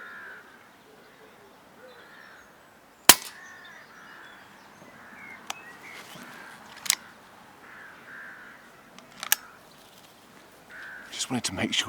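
A Daystate Red Wolf airgun fires a single sharp, close crack at a rabbit in an evening hunt. Crows caw now and then, there are a few faint clicks, and a person talks quietly throughout.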